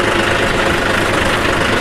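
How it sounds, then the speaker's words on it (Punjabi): A tractor engine runs close by on the way to a paddy harvest, a loud, steady, low mechanical drone with a rough, throbbing texture and no voices over it. "ਟਰੈਕਟਰ ਲੈ ਚੱਲਿਆ"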